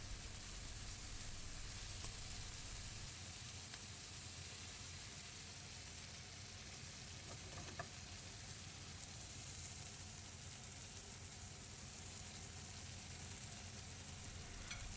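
Chili and garlic frying in a pan, a continuous dense hiss of hot oil with a faint occasional clink, steady and fairly quiet throughout, no speech.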